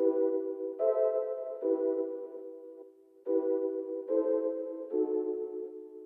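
Analog synth sample processed with tape delay, reverse and saturation, with a detuned tone: sustained chordal phrases in evenly spaced swells, alone and moderately loud, with a brief dip midway.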